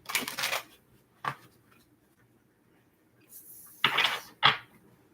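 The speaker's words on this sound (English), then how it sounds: "Last shuffle." Several short bursts of crisp papery riffling, tarot cards shuffled at close range in quick clusters, with quiet pauses between and no talking.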